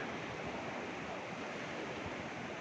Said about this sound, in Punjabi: ਜਿਹੜਾ ਪਾਣੀ ਸਤਲੁਜ ਦਰਿਆ ਦੇ ਵਿਚਕਾਰ ਹੀ ਵਗ ਰਿਹਾ ਹੈ